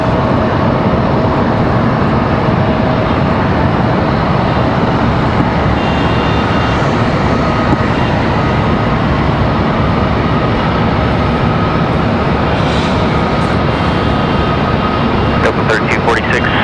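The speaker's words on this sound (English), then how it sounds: "Delta 3246 headed off to Atlanta, Georgia. That is this 737-900" Jet engines of a Delta Boeing 737-900 roar loudly and steadily as it departs Raleigh Durham International Airport, a sustained broadband rumble with a voice talking over it.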